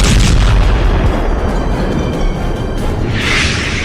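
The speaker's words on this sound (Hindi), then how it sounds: "क्रेमलिन के ऊपर ड्रोन का धमाका" Booming blasts from drone strikes in war footage, a loud continuous rumble of heavy low explosions throughout, with no speech.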